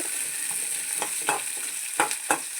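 Ingredients for beetroot chutney, including dried red chillies, fry in a hot pan with a steady sizzle. A spoon scrapes and stirs with several distinct knocks.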